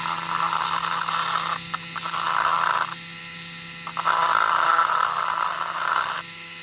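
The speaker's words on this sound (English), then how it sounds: "What we normally do, we'll get the Dremel fired up." Dremel rotary tool spinning at high speed during diecast toy restoration work, a loud, close whine that dips briefly in pitch and load several times as it touches the workpiece.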